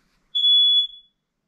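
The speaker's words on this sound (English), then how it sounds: "Sounds like we got a low battery on one of our smoke detectors." A smoke detector gives a single low-battery chirp inside a floating cabin on a lake: one short, piercing electronic beep standing alone in silence, close by and clear.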